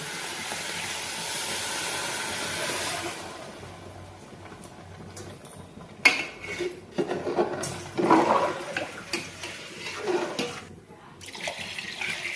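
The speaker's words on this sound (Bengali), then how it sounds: "এখন এর মধ্যে পরিমাণ মতো জল দিয়ে দেবে" Water is poured into a pan of frying rice and broken-rice mixture, first as a steady rushing hiss and then as bursts of sizzling and bubbling, heard close without talk.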